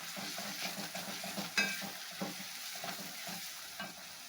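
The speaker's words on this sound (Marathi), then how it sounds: "चांगली परतून घेऊया पेस्ट टाकून." Garlic paste fries with onion in a pan, a soft crackling sizzle broken up by repeated stirring scrapes and one sharper clink, quiet and close, with no voices.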